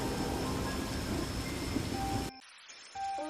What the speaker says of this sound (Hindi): बारिश और तेज हो चुकी थी।